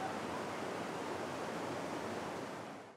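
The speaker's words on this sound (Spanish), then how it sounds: "Esta corriente de agua puede parecer tranquila" Steady, dense rush of flowing water from the San Antonio river in Antioquia, Colombia, continuous and fairly loud with no voices.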